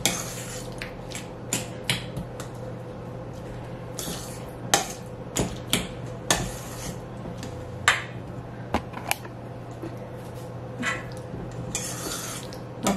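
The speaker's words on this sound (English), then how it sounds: "I'm going to smash this up a bit first before we go any further." Cooked butternut squash being mashed in a bowl, heard as a series of irregular utensil clinks and knocks against the bowl over a low steady background hum, close by and without speech.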